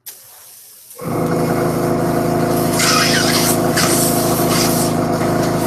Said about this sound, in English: While we've got the airbrush out, let's go ahead and spray the bases green.